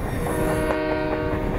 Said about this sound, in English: It is a busy junction with trains for all major parts of the country passing through here.